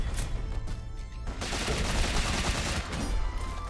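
Rapid gunfire bursts from a flying character's gun in the video game Rogue Legacy 2, loud and dense with continuous crackling shots layered over game effects and music.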